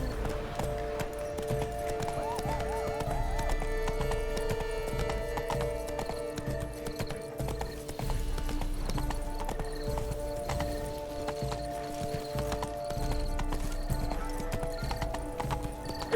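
Horse hooves clip-clop in a steady, continuous rhythm in The Witcher 3: Wild Hunt – Blood and Wine, with a faint whinny and ambient game sounds underneath and no speech.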